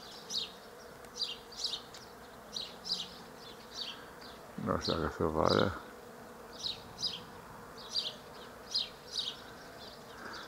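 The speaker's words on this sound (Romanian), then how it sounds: "zboară albina." A bee buzzing in short repeated passes around acacia buds outdoors at 8 degrees, faint high buzzes recurring every second or so, with a brief burst of speech partway through.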